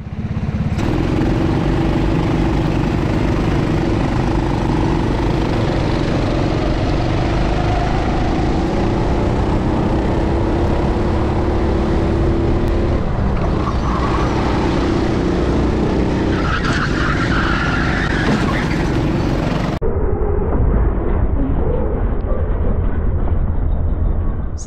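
Go-karts race at CalSpeed Karting with loud, continuous engine whine and tire skidding, the engine pitch rising and falling as they go through corners, and the roar shifts abruptly near the end.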